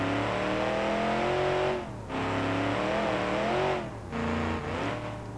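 A giant lifted mud truck engine in BeamNG.drive revs up and down in surges, droning loudly with brief drops between throttle bursts, no voices present.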